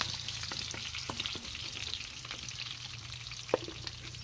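Pork fat and meat frying in a pan make a steady, close sizzle and crackle, with occasional stirring scrapes and one sharper tap near the end, no voices.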